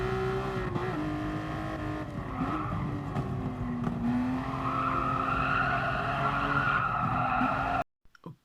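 A car fitted with budget tyres loses grip while cornering at speed, giving a loud, sustained tyre squeal that wavers in pitch over a steady engine note for about eight seconds before cutting off abruptly.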